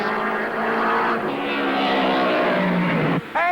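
Racing cars at the 1957 Nürburgring Grand Prix roar past loudly, engine pitch sweeping as they pass, with a sharp rising note from another car near the end.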